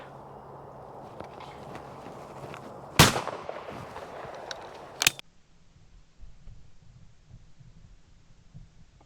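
A single sharp shotgun blast at a sporting clay target, close and loud, followed by a second crack a couple of seconds later, then quiet outdoor ambience.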